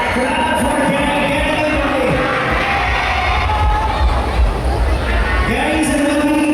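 A loud crowd at the Kapitan sa Minulu-an 2025 pageant cheers and shouts for contestant Gary, a continuous roar of whoops and screams that fills the space from start to finish.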